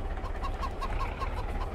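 A chicken clucking in a farming video game, a quick string of short, evenly spaced clucks over a steady low rumble of background sound, fairly close and moderately loud.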